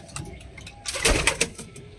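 Purebred Giribaz pigeon in a loft cooing at close range, a soft throaty coo amid flapping and rustling, with no voices.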